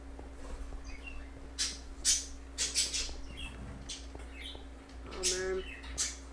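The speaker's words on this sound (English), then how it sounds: "those birds are annoying" Small birds chirp and tweet in scattered bursts inside the game Minecraft Hunger Games, fairly faint, over a steady low electrical hum.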